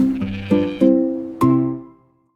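A sheep bleats four times in quick succession, clear and close, each call wavering and the last one trailing off into silence.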